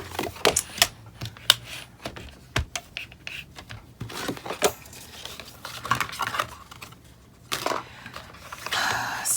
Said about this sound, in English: I actually only need one side. And so I will cut it off.